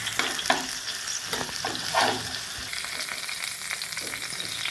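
Pointed gourd coated in lentil paste fries over low heat, making a steady moderate sizzle with occasional soft scrapes and turns of a spatula, heard close and without speech.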